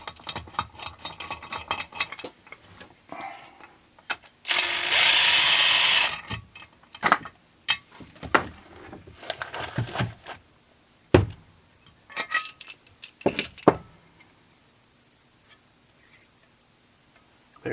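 Bearing pressed into a Huztl 372xp clone chainsaw case with an installation tool at room temperature, a series of close metallic clicks, ratcheting turns and clinks with a longer grinding burst early, then quieter near the end.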